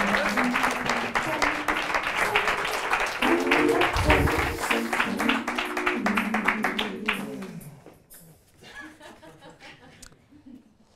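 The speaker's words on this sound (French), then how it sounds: "Je vous demande d'applaudir le professeur Odysseus." A television studio audience applauds for a comedy show segment, a dense burst of clapping with some chuckles and voices mixed in, then fading out as talk takes over near the end.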